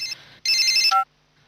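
A mobile phone ringtone chirps in two short electronic bursts, the second longer and ending on a lower tone, then stops into near silence.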